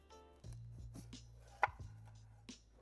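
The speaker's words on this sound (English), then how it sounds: "we can hold the pepper upright, and then we're just gonna chop down" A knife cuts down through an upright bell pepper on a board, giving a few crisp crunching chops, one sharper and louder than the rest, close and quiet against low background hum, with no speech.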